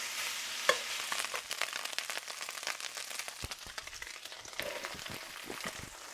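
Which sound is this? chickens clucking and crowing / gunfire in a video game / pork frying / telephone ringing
pork frying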